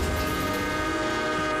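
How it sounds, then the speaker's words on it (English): A northbound train approaches a level crossing, its steady rumble and sustained horn-like tones filling a continuous, loud wash of sound with no pauses. "The northbound train demolishes the woman's car."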